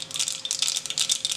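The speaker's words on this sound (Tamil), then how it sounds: "கடுகு வெடிக்கிறது, உளுத்தம்பருப்பு போட்டுக்கலாம்." Mustard seeds spluttering and popping in hot coconut oil for a South Indian tempering, a dense, continuous crackle with rapid sharp pops, close and fairly loud with no talking.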